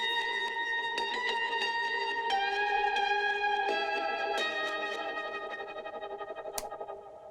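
Eerie sampled guitar carrying into a drop in a track, sustained chords washed in reverb and delay with compression, steady and full for most of the stretch before thinning toward the end, no voices.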